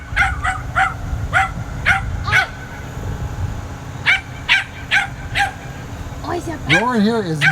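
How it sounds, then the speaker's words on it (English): Dogs bark in repeated sharp bursts at an animal shelter, with a whimpering howl near the end, close and loud over background noise and a voice. "There's another dog in our midst."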